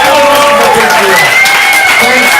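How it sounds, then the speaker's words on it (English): A comedy club audience at a stand-up showcase gives the comedians a big round of applause, a dense wash of clapping and cheering with sustained tones riding above it, loud and continuous throughout. "Give them a big round of applause"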